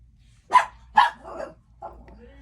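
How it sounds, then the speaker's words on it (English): Dog barks twice in quick succession, fairly close and loud in a quiet room, then gives a softer, lower follow-up woof and a faint whine. "Oh, that's my dog."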